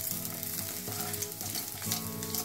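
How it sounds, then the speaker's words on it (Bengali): Chopped ginger frying in hot refined oil in a kadai, a steady, continuous sizzle with faint stirring scrapes throughout, no voices. "একটু ফ্রাই করে নেব আদা কুচি"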